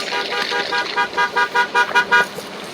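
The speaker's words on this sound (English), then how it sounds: "beeping their horns to let the residents know the crews are coming through." Snow removal crew vehicles honk their horns on a residential street in East Chicago, a run of short, loud, rhythmic toots repeating about every quarter second, close by and alone.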